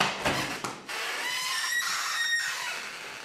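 A staircase or door squeaks in a rented flat, with a brief knock or two followed by a thin, drawn-out creaking squeal of moderate loudness, heard alone and close.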